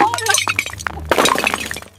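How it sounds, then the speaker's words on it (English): A clay bowl shatters on dusty ground with a sharp crash and scattered clinking fragments, mixed with raised voices. "She dropped the clay bowl. It shattered across the dusty ground"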